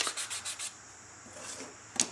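A homemade sanding stick rubbed against the edge of EVA foam, five quick rasping strokes in an even rhythm, then a pause and one last stroke, close and fairly quiet with no talk.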